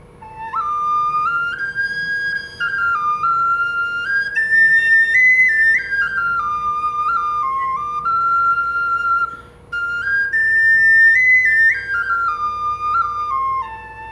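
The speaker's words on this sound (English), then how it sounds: "I'm tickled to death with my little four-hole whistle here" A bright, breathy whistle from a homemade PVC four-hole whistle plays a simple lilting melody of rising and falling notes, steady and close, with one short pause midway.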